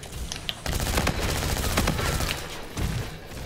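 Automatic weapon fire in Call of Duty: Infinite Warfare during a one-on-one match: a rapid, sustained burst of shots fires for about two seconds, followed by a shorter second burst, loud and close.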